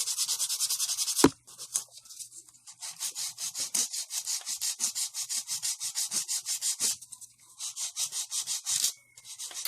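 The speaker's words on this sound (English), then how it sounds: "This is the 180 grit file. So I'm just using that to shape it, and we're going for a nice square nail." A 180 grit nail file shapes a fingernail into a square tip, rasping in steady, rapid back-and-forth strokes close to the mic after a single sharp tap at the start.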